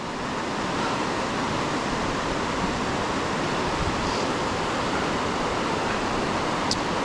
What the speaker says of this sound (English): This is Cucumber Rapids, the Ohiopyle River, Ohiopyle State Park.